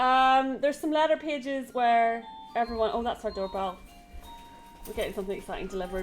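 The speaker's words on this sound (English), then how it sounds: "Oh, that's our doorbell." A doorbell chimes in a clear run of ringing tones at the start, with a person talking over and after it in a quiet indoor room.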